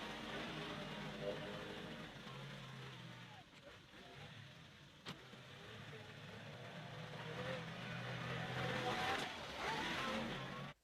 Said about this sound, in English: I did the majority of the digging with this little backhoe